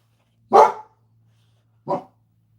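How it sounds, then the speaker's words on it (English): Two separate dog barks, a louder one followed by a shorter, softer one after a pause, nearby in an otherwise quiet room. "And what are you barking"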